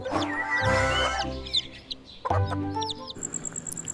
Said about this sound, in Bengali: এইচ ফর হেন। হেন মানে মুরগি।